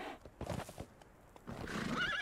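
A horse whinnies loudly near the end, preceded by a few soft thuds and shuffling; sound effects from the game Conan Exiles, no speech.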